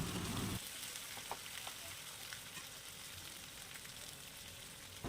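Soaked spice powders (turmeric, chili, cumin, coriander) hit hot oil in a pan for a chicken leg piece curry, a loud burst of sizzle at first that settles into a steady close frying hiss with faint stirring scrapes.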